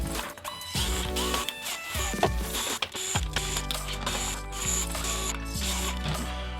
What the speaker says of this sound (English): We're going to start by removing all of the screws on the back of the toy.